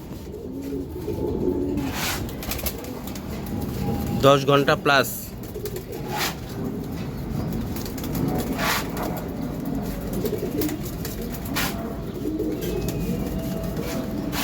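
Pigeons at a farm of Giribaj high-flyer and racer breeds coo softly in the background, with low murmuring calls running throughout. Someone talks over them and a brief flutter comes in the middle.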